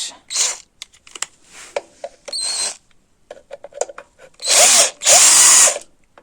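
A power drill with a freshly changed bit drives bolts while installing a 6-volt CDI kit on an IZh-56 Planeta motorcycle. Several short whirring bursts come first, then two longer, louder close-up spins with small clicks and handling noises between them.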